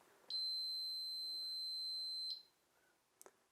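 An OLAS extender, a repeater for Guardian and Core, gives one long steady high-pitched beep lasting about two seconds as it switches on, then a soft click a moment later in a quiet room.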